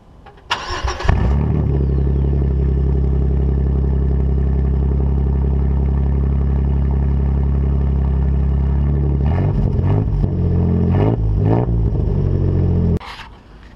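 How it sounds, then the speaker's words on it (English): A Jeep engine with no muffler cranks and fires up, then idles with a loud, deep, raw rumble that holds steady, blips with a few revs near the end and cuts off abruptly. "I'm gonna go ahead and start it up and see what it sounds like without a muffler"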